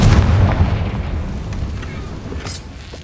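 A Confringo fire blast spell explodes in the Hogwarts Legacy video game, a loud booming burst at the start that rumbles and decays over the following seconds, with a brief crackle near the end.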